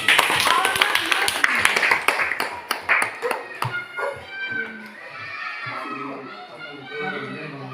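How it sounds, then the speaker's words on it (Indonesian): Children clapping in a classroom after a group's answer, a burst of sharp handclaps in the first half that thins out, followed by children's voices and chatter. "Tepuk tangan untuk kelompok 1."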